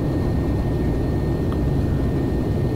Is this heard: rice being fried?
no